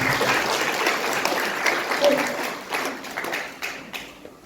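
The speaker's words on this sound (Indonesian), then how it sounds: "Beri tepuk tangan yang mulia." A church congregation applauds continuously during an Easter service, a dense wash of clapping that gradually thins toward the end, with some voices mixed in.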